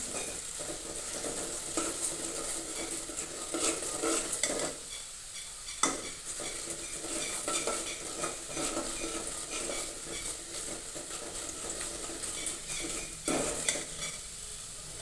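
Onions sautéing in a pan as they turn golden, a quiet continuous sizzle with a spoon stirring and scraping, and occasional brief clinks against the pan.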